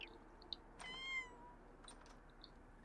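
Cats in The Sims 4 give one clear, drawn-out meow with a few faint shorter calls around it, soft over a low game background hum.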